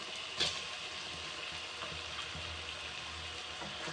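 Chicken pieces fry in a kadai with a soft, even sizzle, faint and close, broken by one brief clink near the start and a few light stirring scrapes, no voices over it.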